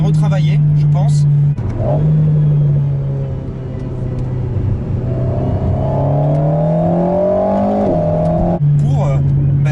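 An Alpine A110 S engine revs up steadily with a rising, reworked intake growl, a loud interior drone that climbs in pitch before a gear change and settles again.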